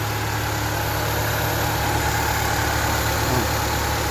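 A Honda PH15 engine idling after an overhaul, a steady low rumbling drone that runs evenly throughout, close and fairly loud.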